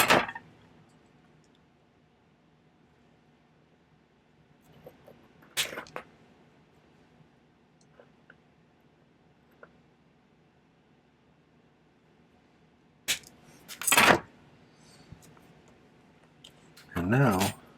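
Wire cutters snip the ends off silver wire while a ring is made, a few sharp isolated clicks spaced several seconds apart against a quiet room.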